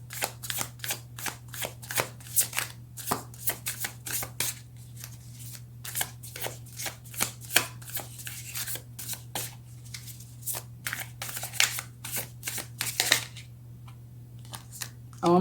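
Tarot cards are shuffled by hand, giving repeated soft riffling flicks and slaps in an uneven rhythm, close to the listener over a low steady hum.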